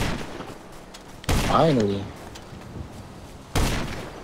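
Gunfire in a video game, with a couple of sharp broadband blasts standing out near the start and end, mixed under a player talking over game sound.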